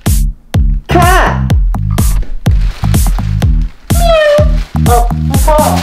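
A person mimics a cat's meow with a series of loud, close, drawn-out vocal meows, voiced as a playful imitation over a thumping rhythmic beat.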